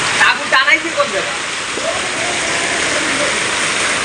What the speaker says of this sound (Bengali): সকালতে প্রচুর বৃষ্টি হইতেছে